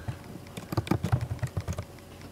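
Fingers typing a short word on a Mac computer keyboard: a quick burst of about a dozen light, close clicks in an uneven rhythm, with nothing else around it.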